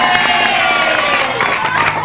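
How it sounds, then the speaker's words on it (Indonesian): Studio audience of an Indonesian TV talk show cheering and clapping loudly, a dense continuous crowd roar with whoops over steady applause for about two seconds. "Langsung tepuk tangan dulu dong."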